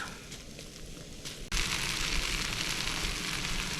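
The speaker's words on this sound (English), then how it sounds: "listen to that sizzle" Food hits a hot pan and bursts into loud, steady sizzling that continues without a break, close up, crackling and hissing.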